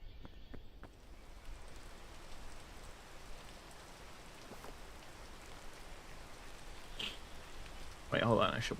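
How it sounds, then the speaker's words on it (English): Steady rain in the video game Peak, a soft continuous patter with a few faint drips and rustles, ending in a brief louder burst of clattering noise. "I should wait for it to stop raining"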